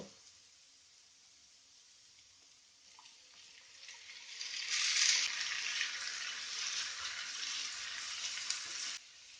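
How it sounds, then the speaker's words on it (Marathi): Onion fries in a pan for Goan chicken biryani, a steady hiss of oil that swells in the middle, loudest around five seconds, and stays strong until it cuts off near the end. "आता आमचो कांदो तळसून जाता"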